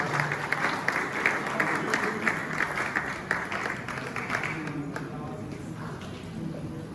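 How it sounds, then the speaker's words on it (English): Audience at a Ghanaian chief's speech on alternative dispute resolution applauds, a steady patter of clapping that gradually thins out, with a voice talking over it. "Let's keep clapping, let's keep clapping."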